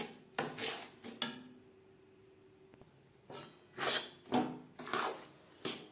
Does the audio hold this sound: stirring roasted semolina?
yes